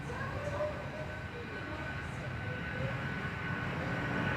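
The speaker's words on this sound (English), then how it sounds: "Cathay rolling on 2-1, heading off to Hong Kong, 24-year-old, A330" A 24-year-old Cathay Pacific Airbus A330 takes off on runway 21 at Perth Airport, bound for Hong Kong: a steady, continuous jet roar with broad rumble, holding an even loudness throughout and heard at a moderate distance.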